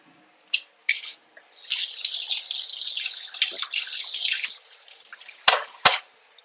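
Tap water runs steadily at a sink while dishes are washed during dinner cooking, a continuous hissing stream of several seconds bracketed by a few sharp clinks and splashes.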